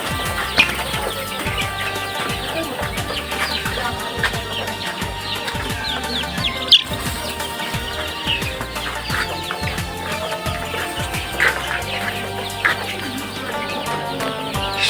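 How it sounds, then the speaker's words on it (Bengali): Eighteen-day-old layer chicks in a brooding house cluck and cheep constantly, with short bursts of wing flapping scattered through the busy, close-up chatter. "লেয়ার মুরগিগুলো।"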